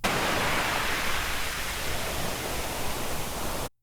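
Steady broadband wash of noise from a GForce MAP synthesizer's ocean-wave noise source, with a soft, surf-like roar, holding constant for a few seconds before cutting off abruptly.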